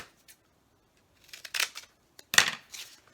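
Scissors snip through cereal box cardboard pieces, a few quiet crisp cuts in short bursts separated by silence, close up.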